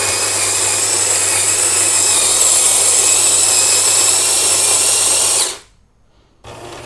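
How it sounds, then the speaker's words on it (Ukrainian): A Jura D4 espresso and Americano machine runs its grinder and brewing pump for a cup of coffee, a loud steady mechanical whir that cuts off abruptly near the end, then a faint hum returns. "Пішло тестування, ще чашечка кавки."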